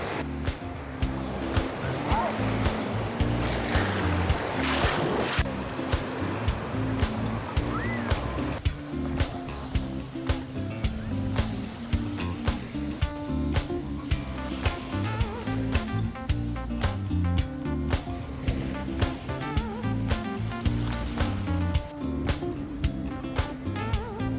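Sea waves at a beach on Isla Mujeres, Mexico, with continuous surf and wash, close and steady, with faint voices in the background.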